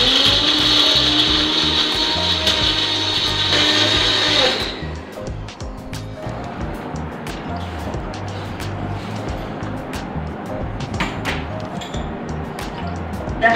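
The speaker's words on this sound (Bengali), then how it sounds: "এটাকে আমরা পিষে নেব।" A mixer grinder blends dosa chutney with a pinch of sugar, whirring loud and steady at close range for about four and a half seconds, then stopping and leaving quieter kitchen clatter.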